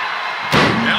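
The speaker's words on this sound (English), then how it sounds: "Elbow drop right on point." A wrestler's elbow drop lands with one heavy, booming slam in WWE 2K23, cutting through steady arena crowd noise.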